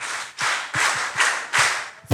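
Audience clapping in a group session, several short bursts of applause in quick succession, each fading before the next, fairly close and loud.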